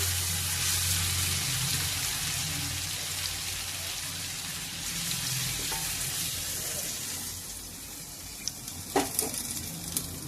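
A pan of raw banana and tomato curry sizzles steadily and close by after water is added, a constant frying hiss that eases slightly, with a few sharp clinks of a utensil near the end.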